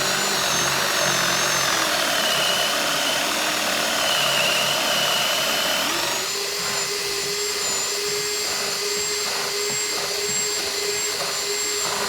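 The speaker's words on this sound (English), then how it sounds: "So you just start drilling" A power drill bores into a cabinet door to seat a hinge, a loud, steady motor whine that shifts pitch midway as the bit bites into the wood, continuous and close with no talking.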